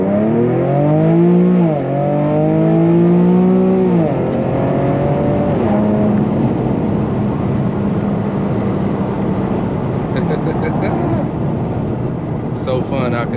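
An Infiniti G37 in manual mode accelerates hard with no traction, engine note climbing through gear changes, loud and close inside the car, then settling into steady road noise.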